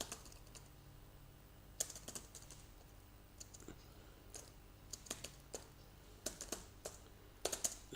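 Typing on a computer keyboard to write a file inside a VirtualBox guest OS, with quiet, irregular key clicks arriving in short bursts over a faint steady background hum.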